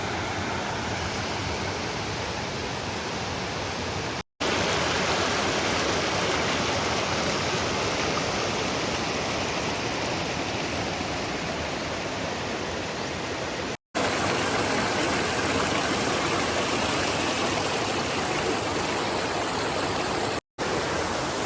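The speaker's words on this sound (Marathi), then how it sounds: "नदीचा नाला आहे ओहळ म्हणतो आपण त्याला आणि आपण बघू शकता वाहतं पाणी" A forest stream by a hidden waterfall near Palsan, Surgana, rushing loudly and continuously with a dense broadband roar, heard close with no other sounds and only a few brief cuts.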